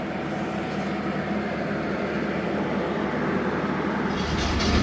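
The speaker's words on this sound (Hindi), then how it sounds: "चार मिनट क़याम के बाद ट्रेन रवाना हो चुकी है करंडा रेलवे स्टेशन से" The Zakariya Express passenger train rolls on after pulling out of Karanda railway station, a steady low rumble and rattle heard from inside the carriage, rising slightly in loudness toward the end.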